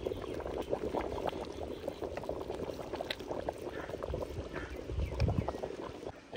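Lahori paya, a stew of beef and mutton trotters, simmers in a covered pot over medium heat, with a steady, close bubbling and gurgling that runs without a break.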